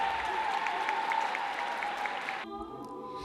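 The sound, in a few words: thunderous applause from the audience for a choir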